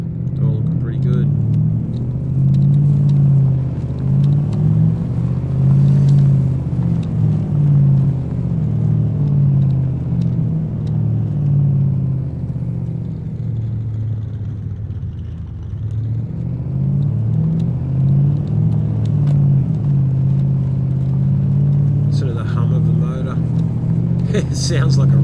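A car engine in the video game DayZ rumbles steadily at idle and low revs for about twenty-five seconds, loud and close, dipping briefly midway before settling again.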